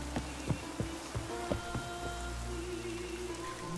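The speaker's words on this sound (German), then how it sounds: "Das gießt. Es regnet Ragnarok auf uns." Steady rain pours down in The Witcher 3: Wild Hunt on the islands of Skellige, a continuous hiss with scattered louder drops and patters throughout, no voices.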